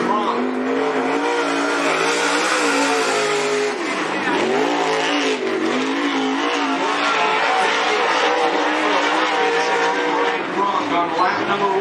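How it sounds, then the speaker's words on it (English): Late model race cars at Cottage Grove Speedway, loud engines roaring and revving past close by with a dip in pitch as one passes, a continuous racing din. "This is the Great Racing Engine rocket chassis of Brian Cronk."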